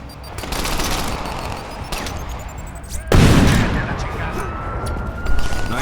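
Repeated gunfire from the player in the game Crackdown, steady bursts of shots with a heavier impact partway through, under game voices and background noise.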